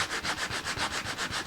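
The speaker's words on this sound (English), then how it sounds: "sanding is working really well here" Sandpaper rubs over the wood of a Martin 00 style acoustic guitar in a workshop, close and steady, with quick regular back-and-forth strokes that keep an even rhythm.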